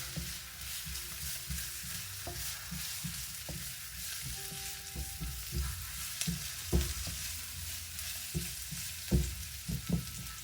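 Native chicken cooked with pepper leaves and Serrano pepper is stirred in a hot pan, giving a steady sizzle with irregular scraping knocks and clatters of the utensil against the pan, close by with no talk.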